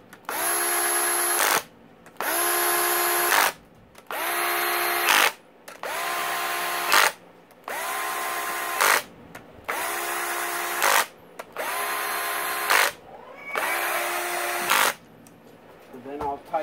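A power driver whirs in about eight short, even bursts with brief gaps between them, running bolts down on a Yamaha YFZ450 motor during a rebuild. The sound is close and loud, with occasional speech heard around it.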